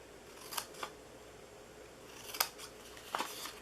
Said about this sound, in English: We're going to cut this, and we are going to cut each side here.